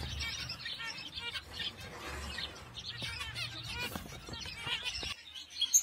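Many small birds chirp and twitter in a busy aviary, with overlapping quick calls, fluttering wings and rustling close by, fairly faint and continuous throughout.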